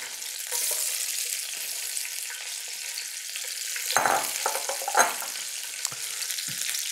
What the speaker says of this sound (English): now these are going to go into the fat here and saute